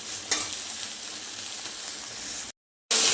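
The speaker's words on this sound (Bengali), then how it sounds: "এদিকে ঢেঁড়সটা ভেজে নিচ্ছি।" Okra fries in a pan with a steady, close sizzle and crackle. The sizzle runs for about two and a half seconds, breaks off briefly, then resumes.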